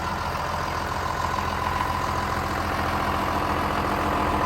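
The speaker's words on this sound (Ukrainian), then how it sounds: "Легендарний трактор 6920" A John Deere 6920 tractor engine idles steadily nearby, a continuous low rumbling drone with no talking.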